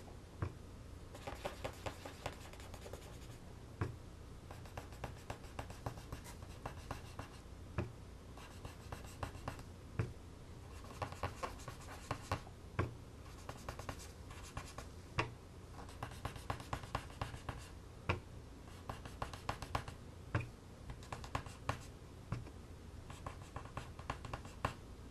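A cotton swab dabs and rubs ink pad color onto paper in soft, rapid scratchy strokes, close and quiet, continuing steadily with frequent small taps and no speech.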